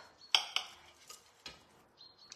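Knife cutting into a soft baked cake on a serving dish, a few quiet clinks and scrapes of metal against the plate, spaced irregularly and close by.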